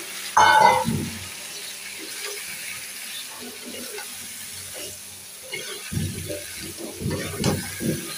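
A mixed vegetable curry of aubergine, potato and taro sautés with spices in a pan, giving a steady low sizzle with bursts of louder stirring and scraping, at first and again near the end.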